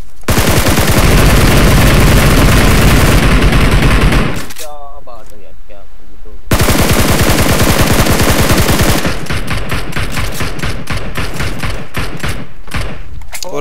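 Automatic gunfire in the battle royale video game PUBG: loud, dense rapid bursts with sharp cracks and thumps, a short pause with a clanking reload, then more fast fire; voices chatter over the shooting.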